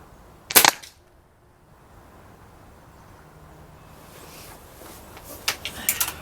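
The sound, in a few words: Gamo Swarm .22 air rifle shots at targets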